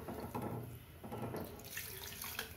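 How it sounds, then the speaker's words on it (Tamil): Water is poured into a pot of idli sambar spiced with chilli powder, asafoetida and coriander powder, a faint steady running splash lasting a couple of seconds. "தேவையான அளவு தண்ணி ஊற்றிக்கலாம்."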